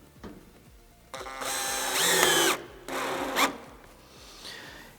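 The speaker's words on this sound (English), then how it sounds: "It's very helpful if you have a cordless drill that you can adjust the torque." A cordless drill drives a screw into metal roofing, whirring up in two short bursts with a pause between them, and the second burst stops as the screw seats. It is close and clear against quiet background ticking.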